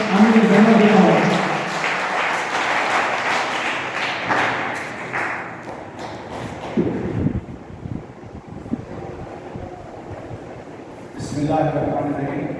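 An audience at a college event applauds loudly and steadily at first, then the clapping thins into scattered claps and thumps before fading, with a little wind noise.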